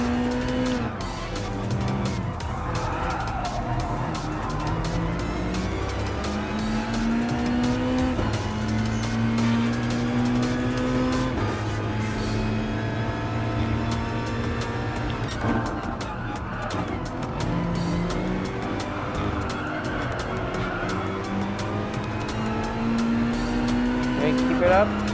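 Race cars, including a Lexus prototype, roar around a track in Gran Turismo Sport. Whining engines climb and fall through gear changes, with tire squeal, for a continuous, loud stretch.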